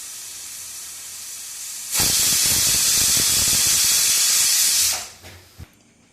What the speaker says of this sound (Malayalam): ഇനി കുക്കർ വിസിലടിക്കാം.